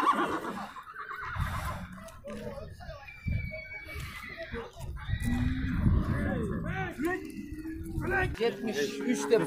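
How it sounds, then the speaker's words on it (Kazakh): A tall, handsome horse neighs and whinnies loudly at a livestock sale, with several calls over roughly nine seconds amid people talking and bidding. "сұлу жылқы екен"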